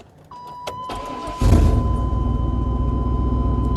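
A 1990s Chevy/GMC 4WD truck with 300,000 miles starts up: a whining chime and cranking, then the engine catches and settles into a loud, steady low idle rumble.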